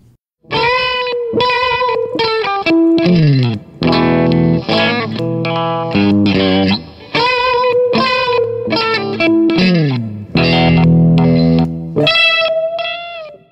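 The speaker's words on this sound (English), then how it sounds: "I can use that to alternate between the darker and lighter pickups, which I guess will emulate a wah sound." An electric guitar played through effects, its pickup switch flicked between darker and lighter pickups to fake a wah, giving loud distorted chords in choppy bursts with pitch sweeps and abrupt cutoffs.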